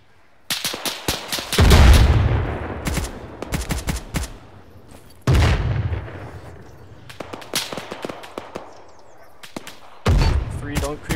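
Mortar and gunfire in the video game Arma, with sharp loud blasts and crackling shots arriving in bursts, several heavy impacts standing out among scattered rapid reports.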